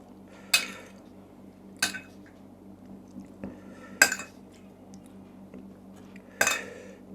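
A utensil clanks against a pan while fresh shrimp are stir-fried in a spicy Mon-style curry, four sharp metallic strikes spaced a couple of seconds apart over quiet sizzling, close by and with no talking.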